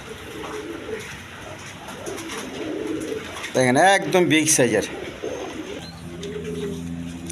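Maltese pigeons coo in a low, rolling burst midway, with someone speaking before and after and faint chirps in the background.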